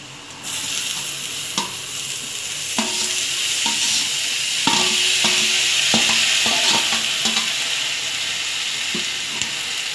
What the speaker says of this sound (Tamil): இதை வந்து தக்காளி நல்லா வந்து ஸ்மாஷ் ஆகணும் அதனால் நல்லா கிளறி விடுங்க வதக்குங்க